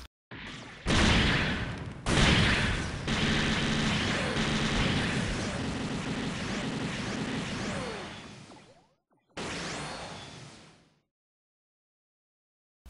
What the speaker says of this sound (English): that is a knockdown beam cannon